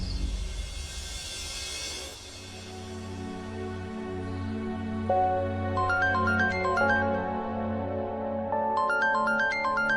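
A phone rings with a synthesized melodic ringtone that builds into repeating electronic chimes, playing steadily over a soft background hum with no voices.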